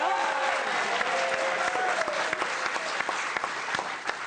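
A television studio audience claps and cheers, a sustained dense burst of applause that stays fairly even and tapers slightly at the end, with a voice faintly speaking over it.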